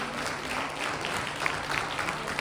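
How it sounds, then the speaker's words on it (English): Audience applause after an informative health session, a steady wash of clapping lasting the whole moment at moderate level, with a few sharper individual claps standing out near the end. "Let's give a round of applause, please."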